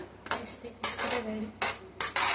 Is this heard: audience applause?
no